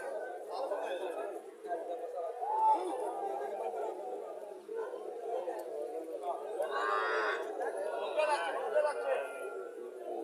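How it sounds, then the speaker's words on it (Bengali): A crossbred cow lets out a low moo amid busy crowd chatter at a cattle market in Chandimura, Comilla, with people talking close by throughout. "এখানে একটা গাভী দেখা যাচ্ছে, ক্রস। গাভীটা ক্রস গাভী।"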